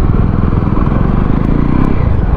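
A Jawa 300 motorcycle engine runs close by, a loud, steady, low rumbling putter with a fast even beat and no change in pitch.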